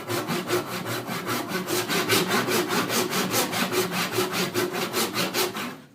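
A hand saw cutting wood held in a vise to make sawdust, heard as steady, brisk back-and-forth rasping strokes in an even rhythm, close and fairly loud, continuing throughout without talking.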